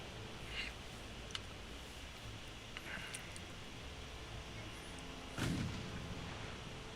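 Six-inch naval guns fire from an Imperial Japanese warship in a naval combat game, heard as faint, distant booms over a quiet background, with one heavier, louder report near the end.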